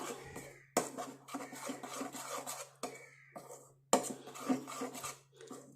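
Henna powder and coffee powder being stirred together in a bowl, giving repeated close scraping and rasping strokes in uneven bursts with short pauses between them.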